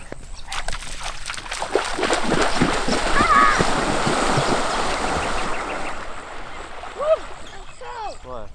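People splash into the sea for a swim off Moreton Island, with a burst of sloshing and splashing water nearby while voices shout and talk over it.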